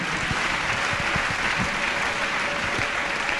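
Church congregation applauding together during a French-language sermon, a steady, dense wash of clapping filling the whole stretch without pause, close and fairly loud.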